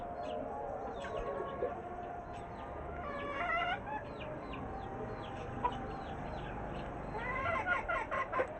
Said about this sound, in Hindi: एक मुर्गी हमारी बाहर आ गई है, वो घूम रही है